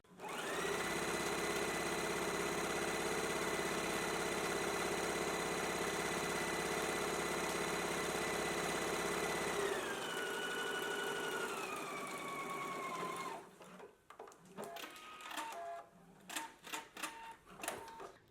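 A sewing machine stitches a skirt seam near the facing, a steady mechanical whir running loud for about thirteen seconds, pitch dropping as it slows, then scattered clicks and handling noises as it stops.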